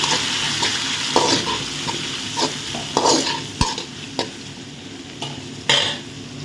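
Onions and tomatoes sautéing in a pan, a continuous close sizzle with spatula scrapes and knocks against the pan at irregular intervals.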